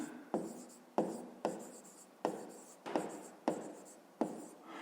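Pen or chalk writing numbers during a fifth-grade math exercise, about eight short scratchy strokes in a regular rhythm, close and fairly quiet.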